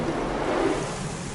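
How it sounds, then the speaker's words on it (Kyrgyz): An automatic car wash in Chicago sprays water over a car in a steady, dense hiss that stays close and constant, with no talking. "Мына үстүнөн суу чачты."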